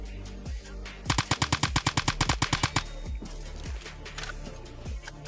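A rapid burst of about fifteen evenly spaced automatic rifle shots rings out in Phantom Forces, loud and close, followed by a few scattered heavier single shots.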